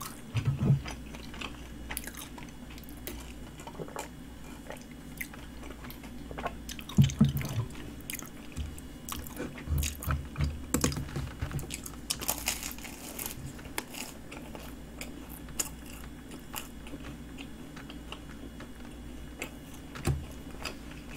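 Pastry being bitten and chewed close up during a bread-eating session, with soft crunchy bites and wet mouth sounds spread across the stretch, alone with no talk.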